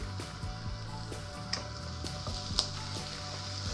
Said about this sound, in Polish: Chwileczkę podsmażam.